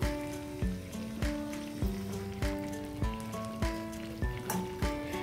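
Chicken sizzles steadily in a hot pan under rhythmic background music with a repeating beat; nobody speaks.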